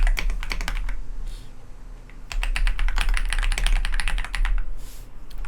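Rapid clicking keystrokes on a computer keyboard as Python code is typed, close and crisp, coming in quick bursts with a brief pause in between, against a faint low hum.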